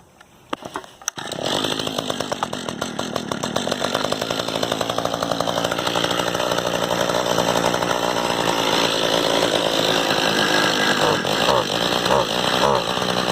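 A chainsaw starts with a few sputtering pulls, then roars steadily at a high, buzzy idle-to-rev pitch for over ten seconds, loud and close, with no talking over it.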